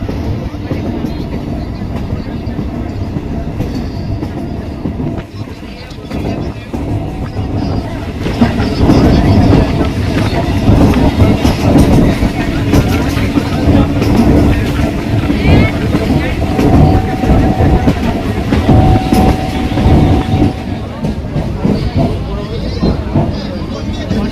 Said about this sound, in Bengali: শেওড়াফুলি থেকে মেন লাইন ছেড়ে দিয়ে আমাদের বোঘাট লোকাল এখন তারকেশ্বর ব্রাঞ্চ লাইনের দিকে ঢুকে পড়ল